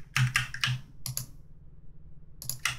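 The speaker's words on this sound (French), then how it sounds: "Je vais utiliser un raccourci clavier, encore une fois." Key presses on a computer keyboard entering a shortcut: a quick cluster of clicks, a brief pair, a pause, then another short burst, close and fairly quiet.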